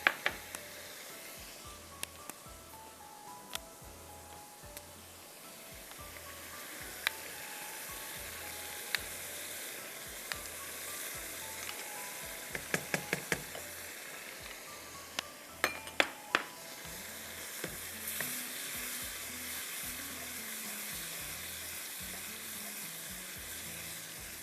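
Ginger chicken fries in a pan as four tablespoons of yogurt go in, giving a steady broadband sizzle with scattered metallic clinks of a utensil against the pan and a low rhythmic hum underneath; no one speaks.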